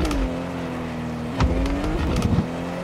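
Race car engine in the Drive Rally video game, a steady close revving drone with a brief tire-squeal burst partway through and more skidding near the end, with no talk over it.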